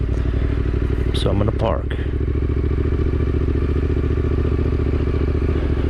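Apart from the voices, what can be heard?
motorcycle engine idling while parking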